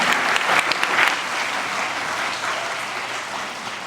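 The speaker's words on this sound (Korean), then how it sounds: "이 성가대에게 박수를 한번 해주실까요?" A congregation at a church united revival service applauds the combined choir: dense, loud clapping at first that gradually thins and softens while continuing throughout.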